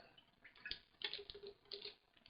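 Homebrew liquid pours from a sanitized container in short bursts with gurgling splashes and trickles, close and fairly quiet, over about two seconds.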